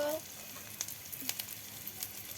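Chopped onion, green chili and ground spice paste fry in a pan after fish has been fried, a close, crackling sizzle with scattered sharp pops and faint stirring.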